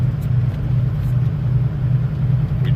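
Low, steady engine rumble of a truck cab rolling through a small downtown in Portage, Wisconsin, continuous and close with slight surging.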